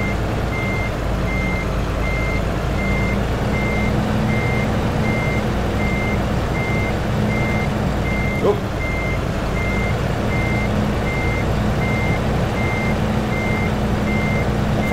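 A truck reversing a trailer in American Truck Simulator sounds a steady, evenly spaced backup beep over a constant low engine rumble, loud and continuous throughout.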